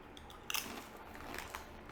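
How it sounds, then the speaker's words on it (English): Someone bites into Sun Chips Harvest Cheddar multigrain chips, giving a sharp crunch followed by softer crackling chews, close and quiet with no talk. "it has that nice Sun Chip crunch"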